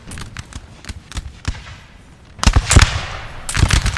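Musket volleys fire through a tree line in the Napoleon Total War video game, with scattered sharp cracks at first, then denser crackling bursts of massed fire, loud and close.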